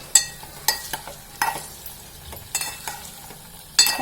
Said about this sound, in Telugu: ముక్కలు అయితే ఒకసారి ఇట్లా కిందికి మీదికి కలిపేసుకోవాలన్నమాట.